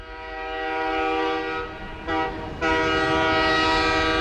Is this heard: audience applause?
no